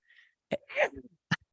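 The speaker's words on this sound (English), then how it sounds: "Excuse me, I had to sneeze." A single sneeze in a quiet radio studio: a brief nasal intake, a sharp burst and a short trailing exhale, close and fairly faint, followed by a tiny click.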